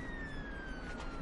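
An ambulance siren wails steadily at a distance, its tone gliding slowly downward over constant low traffic rumble.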